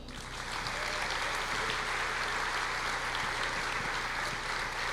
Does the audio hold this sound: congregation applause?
yes